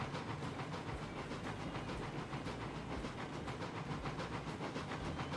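Rhythmic steam chuffs and hiss from a heavily loaded steam train of about nine cars in Railroads Online, with continuous rumbling wheels and faint clickety-clack, steady throughout and free of speech.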